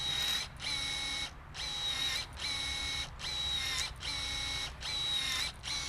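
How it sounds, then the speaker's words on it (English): A Milwaukee M18 telescoping cordless pole pruner cuts through a freshly cut green tree branch about an inch thick outdoors in a yard, its motor whining in steady bursts separated by brief pauses, with no talking. "You can cut through that pretty easily with a pole pruner"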